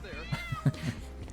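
A cat meows a few times in short, close calls, with a person's voice talking over and between the meows.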